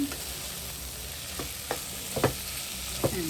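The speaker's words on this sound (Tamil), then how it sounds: "இதை கொஞ்சம் நேரம் எண்ணெய்க்குள்ள வதக்கலாம்." Chili powder fries in oil for a homemade chicken curry, a constant bright sizzle broken by several quick scraping stirs of the pan, with no talking.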